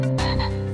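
A green frog in a pond lets out a loud, close, sustained croak inside a children's animal song.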